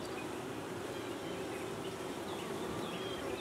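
Honey bees swarming around an open backyard beehive during a hive inspection, a steady, dense close-up buzzing hum with no pauses, full and unbroken throughout with no voices.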